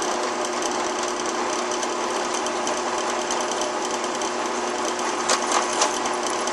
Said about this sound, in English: I'm going to start up the drill